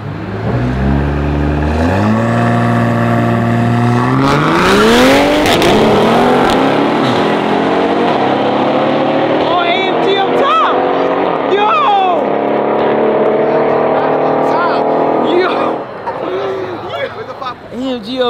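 A Mercedes-AMG revs hard and accelerates in a night street race in New York City, the engine note climbing through gears loud and close before easing off, with voices faintly underneath.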